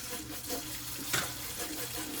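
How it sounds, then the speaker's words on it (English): Tap water runs steadily into a kitchen sink being filled for washing dishes, a continuous close rush with a brief sharper splash partway through and no talking. "So this is filling up with water"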